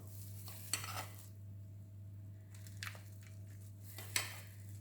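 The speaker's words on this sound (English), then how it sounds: "now we can get a spoon and put the crumble on top" A spoon scooping crumble topping onto flattened apples in a baking dish, giving soft scraping and clinking strokes at intervals over a steady low hum, with no talking.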